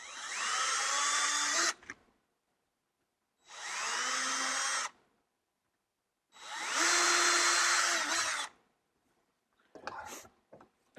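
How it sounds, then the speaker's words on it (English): A power drill bores through a soft plastic box for a trolling-motor backup battery: three loud, close bursts separated by silence, each spinning up to a whine, then a few brief clicks and knocks at the end. "I'm going to try and drill this as straight as I possibly can."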